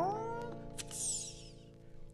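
A folk singer's voice imitates a cat's meow, a rising then wavering mew over steady acoustic guitar accompaniment, sung close and clear as part of a 1954 folk song.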